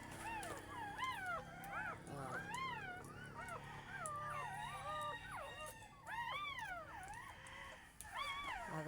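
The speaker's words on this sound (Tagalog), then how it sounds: "May bago akong alagang tuta." A new puppy whines and howls repeatedly in high, wavering cries, close and loud, with several overlapping yelps rising and falling across the whole stretch against a domestic background.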